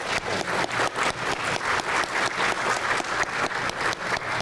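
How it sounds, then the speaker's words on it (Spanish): Conference audience applauding a speaker at a lecture on Hernán Cortés and the conquest: steady, dense clapping that holds evenly throughout, with no talk over it. "Por favor, un aplauso a la doctora Guadalupe Jiménez"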